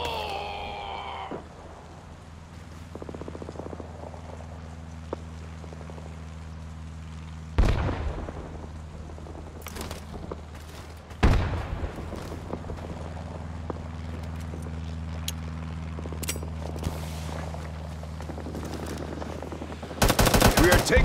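Gunfire in the Rising Storm 2 Vietnam-era shooter game, with a few sharp loud shots and bursts spaced across a steady low engine-like rumble, ending in a heavier burst of fire.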